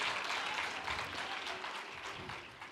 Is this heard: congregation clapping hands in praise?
yes